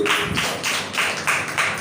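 An audience at a Telugu Christian gathering clapping together in a steady, even rhythm, about three sharp claps per second, fairly close and loud with no voices over it.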